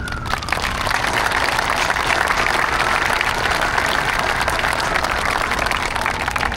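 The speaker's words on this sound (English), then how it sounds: "Would you please give a big round of applause to Captain Joe Brilliant" A crowd applauds steadily for a police captain at a Vietnam Veterans Day memorial parade in California, broad and dense clapping that holds at an even level throughout with no voices on top.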